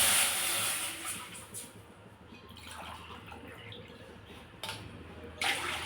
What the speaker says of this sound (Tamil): இதுக்கு 2 டம்ளர் தண்ணி ஊற்றிக்கலாம்.